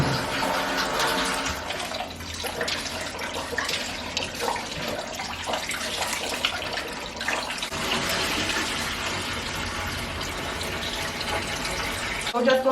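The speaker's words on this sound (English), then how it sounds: "I'm just going to go ahead and wash the rice until the water is clear." Rice is washed under running water from a tap until the water runs clear, giving a steady splashing, rushing stream close by with some sloshing. Quiet talk comes through beneath it.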